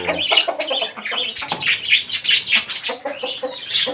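Several chickens cluck and chatter close by in quick, overlapping bursts, with a few higher chirps mixed in.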